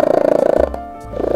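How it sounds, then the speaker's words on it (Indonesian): A cat purrs loudly and close by, a steady rapid rumbling pulse that briefly breaks off midway and then resumes. "Suara dengkuran atau puring yang mengeras."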